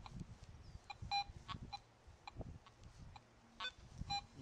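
A Garrett AT Pro metal detector gives a few short, faint beeps over a buried 50-cent coin during an outdoor depth test, the tones spaced unevenly against soft background rustle.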